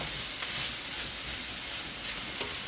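Collard greens and eggs sizzle in a stir-fry pan alongside ginger, a continuous close hiss and crackle with faint stirring, steady and fairly loud with no speech.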